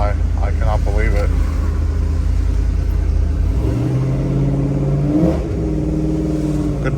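A cammed GMC Sierra pickup with a Circle D stall converter rumbles deep and loud as it drives, its idle lope shifting pitch as the revs change partway through, while a voice talks over it.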